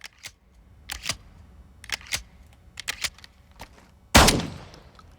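Shotgun loaded with buckshot firing in Call of Duty Modern Warfare II, several sharp blasts in quick succession followed by one louder close boom with a ringing tail, with no talking.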